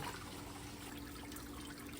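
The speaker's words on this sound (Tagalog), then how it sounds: "eto naman na DIY ko na fountain" Water trickles and splashes steadily from a homemade patio fountain, its overflow running in a soft, continuous wash with no voices.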